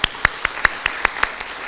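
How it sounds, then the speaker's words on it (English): Sparse, evenly spaced claps ring out at a youth commission graduation celebration, about eight sharp hand claps in a steady rhythm, fairly close and isolated rather than a full crowd ovation. "Can we give a round of applause to them?"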